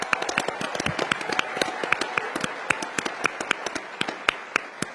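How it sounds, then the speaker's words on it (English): Crowd applause at a CPAC 2025 conference panel, with dense, crackling claps rising and sustained throughout, a steady roar of many hands without voices on top. "Let's give them a round of applause."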